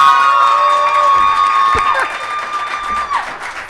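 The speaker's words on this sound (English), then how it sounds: "Give him a big round of applause, please." A live studio audience for a performance breaks into loud, sustained cheering, whooping and applause, a dense crowd roar that dips briefly midway, with a few shouts standing out.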